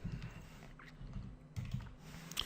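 Quiet typing on a computer keyboard while coding JavaScript, a few soft key clicks in short clusters heard faintly and nearby against low background hum.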